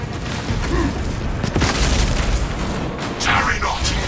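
A grenade blast in the video game Warhammer 40,000: Space Marine 2, a deep boom near the middle amid ongoing combat noise, with shouted voices around it.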